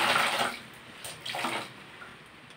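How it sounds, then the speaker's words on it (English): Water splashes and trickles as a patient's leg is washed during a bed bath, with two soft bursts of pouring or sloshing that fade between them. The sound is close and quiet, and nobody speaks. "now I'm going to start washing the patient's leg"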